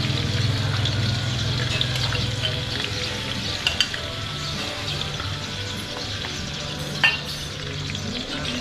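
Garlic and onion fry steadily in hot oil for chili oil, a continuous close sizzle with a few stirring clinks and scrapes standing out.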